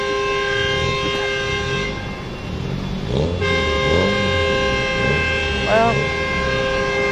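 Horn of a city bus (colectivo) at a bus enthusiasts' meet in a park, sounding as a long steady multi-tone blast held for a few seconds, with engine rumble and people talking nearby.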